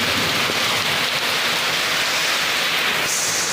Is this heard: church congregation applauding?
no